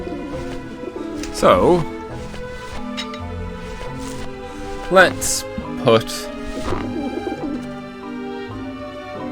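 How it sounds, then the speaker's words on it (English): Pigeons coo repeatedly in the video game Grim Fandango, their soft warbling calls rising a few times over game music while someone talks throughout. "the pigeons obviously like this dish vent"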